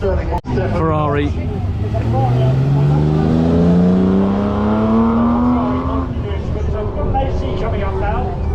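A Ferrari at a hill climb accelerates past, its raspy exhaust rising in pitch through a long pull and then fading as it moves away, loud and close, with someone talking over it.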